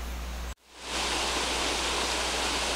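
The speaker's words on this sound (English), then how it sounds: "here's a shot at Glade Creek Falls, greatly diminished since the last time I was here, but beautiful nonetheless" Glade Creek Falls, running with reduced flow, gives a steady, close roar of falling water. The sound cuts in after a brief break near the start and holds evenly, with no voices.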